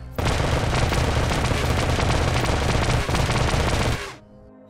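A sniper rifle in Star Wars: The Old Republic fires in a dense, rapid barrage of loud blaster shots for about four seconds, then cuts to near silence.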